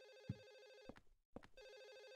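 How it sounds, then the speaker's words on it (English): Telephone ringing in the horror game Silent Hill 4: The Room, two bursts of electronic trilling with a short silent gap between them, clear and steady with no talk. "Phone's ringing somewhere?"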